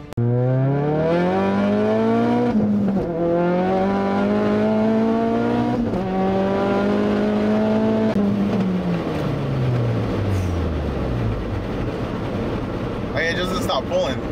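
A 500whp Ford Focus RS accelerates hard, its engine note climbing steadily through gears with brief dips at each shift, loud and close from inside the cabin.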